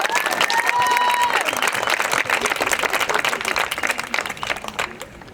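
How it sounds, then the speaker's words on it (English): Crowd applauding for a senior at a high school soccer senior night, a dense, steady burst of clapping that carries loud for several seconds, then gradually thins and fades. "Everyone, please share a round of applause for Rowan and her family"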